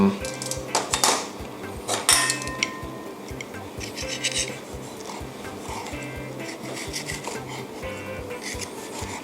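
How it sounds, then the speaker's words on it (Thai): A knife taps and rasps repeatedly against a cutting board while slicing grilled pork neck, close and steady, with some kitchen clatter early on. "หั่นให้ชิ้น"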